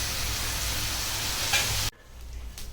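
Chicken pieces frying in a pan while cooking a chicken gravy (kuzhambu), giving a steady broadband sizzle for most of the clip before it drops off sharply to a quieter hiss.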